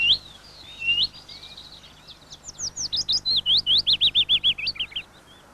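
Willow warbler in a British garden: soft high calls at the start, then a bright descending run of repeated sweet notes growing louder in a steady rhythm, heard alone with faint background hiss.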